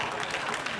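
Studio audience applause on a comedy panel show, a dense, steady wash of clapping that fills the whole brief moment without gaps.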